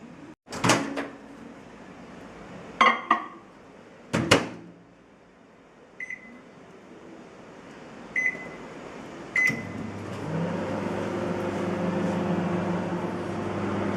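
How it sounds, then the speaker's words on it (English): A microwave oven is cooking coffee cake in a mug: a door thuds and clicks, keypad beeps sound several times, then the oven starts with a steady, loud humming drone. "I'm going to put it in the microwave for 1 minute and 10 seconds"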